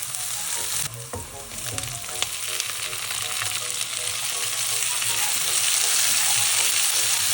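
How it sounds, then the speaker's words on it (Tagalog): Garlic, onion and tomato sautéing in a little oil for shrimp sinigang give off a loud, steady sizzle that runs the whole time, with occasional stirring clicks close by. "Naglagay lang ako dito ng konting oil kasi igigisa ko dito yung bawang,"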